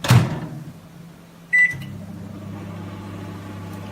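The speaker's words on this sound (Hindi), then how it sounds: "ये देखिए 5 मिनट मैंने माइक्रोवेव को ऑन कर दिया है, 5 मिनट के लिए हाई पावर पे।" A microwave oven set to high power for potato chips opens with a sharp thud, then a short beep, then settles into a steady, close, droning hum.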